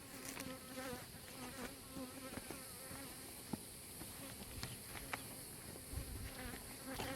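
Honey bees buzz in a dense, continuous hum around a beehive, fairly faint but steady, with a few soft knocks and no speech.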